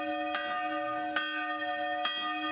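Church bell in a Castilla y León village ringing three strikes roughly a second apart, each a sharp clang over a steady sustained hum of overlapping tones, fairly loud and alone.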